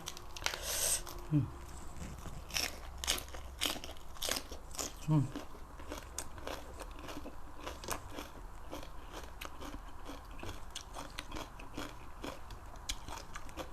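Crisp lettuce heart is bitten and chewed close to the mic in a run of sharp, crunchy bites followed by steady chewing, with some soft talking in between.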